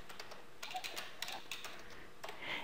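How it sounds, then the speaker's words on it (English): Someone types a command on a computer keyboard for installing command-line tools on Ubuntu, producing a quiet, uneven patter of keystrokes with a few firmer taps, close and fairly faint, with no talking. "So let's type this command,"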